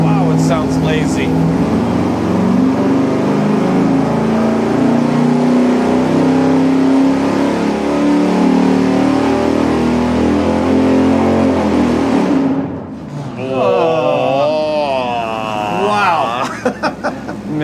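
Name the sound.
440 engine revving on dyno, camshaft advanced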